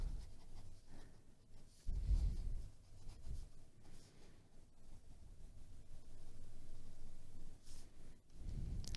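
Pen scratching across paper while sketching small skulls, soft irregular strokes with brief pauses, close and very quiet with no talking.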